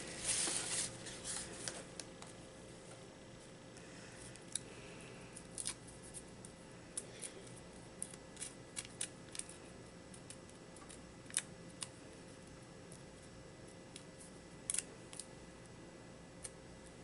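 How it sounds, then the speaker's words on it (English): Scissors snip through a piece of white paper during a craft session, a quiet irregular series of small close clicks and cuts over a soft background, with no talking. "I can put this on a piece of paper, a piece of white paper, and cut it out"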